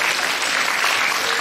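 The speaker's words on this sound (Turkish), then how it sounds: "Babalarımıza bir moral alkışı alalım." Audience applause for the fathers at a kindergarten year-end show, steady dense clapping from a crowd filling the whole moment without pause.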